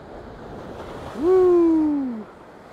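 Wind-driven waves wash and splash against coastal rocks at a rock-fishing spot, with wind around 35 km/h over flat seas. A steady broad roar of surf and wind runs throughout, and a brief tonal hoot-like call rises midway.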